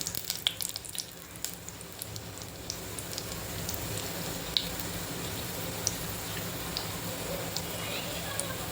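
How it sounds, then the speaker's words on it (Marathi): Cumin seeds crackling in hot ghee in a kadhai, a steady fine sizzle broken by scattered sharp pops throughout, with no talking. "जिरं तडतडलं"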